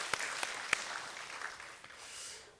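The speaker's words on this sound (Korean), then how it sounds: "수고하신 분들에게 우리 또 하나님께 영광의 박수를 돌려드리겠습니다" Applause from a church congregation during a Sunday service, a soft, fairly faint patter of many hands with a few sharper claps standing out, fading slightly toward the end.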